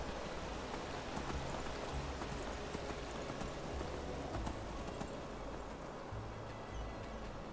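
Steady clip-clop of horse hooves in a video game over a constant wash of ambient noise, like rain, continuing throughout.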